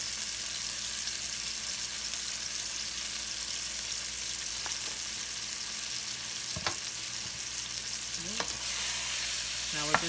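Ingredients for Cajun jambalaya pasta sizzle and brown in a pan, a steady, even frying hiss broken by a few scraping stirs, with no talking.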